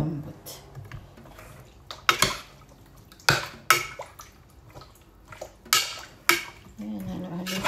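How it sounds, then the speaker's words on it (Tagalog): A utensil scrapes and clacks against a pan of chicken adobo in irregular strokes, with brief sizzling and occasional voices in the background. "halo-haloin natin"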